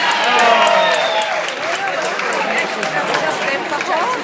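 Wedding guests clap and cheer after the best man's toast, a dense, steady wash of applause from a crowd that holds at an even level through the whole stretch, with voices mixed in.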